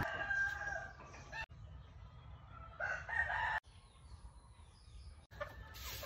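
Chickens on a countryside farm cluck nearby while a rooster crows in bursts, with faint rustling and intermittent bird calls in a quiet outdoor setting.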